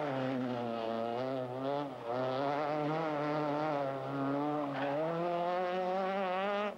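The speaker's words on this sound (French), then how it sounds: "Au prix de très gros freinages, il se permet même le luxe de taquiner les 4 roues motrices de pointe, beaucoup plus puissantes que sa Mégane" A Renault Mégane two-wheel-drive rally car on a special stage of the 1996 Ypres Westhoek Rally howls at high revs, its engine pitch dropping and climbing through hard braking and gear changes, loud and continuous.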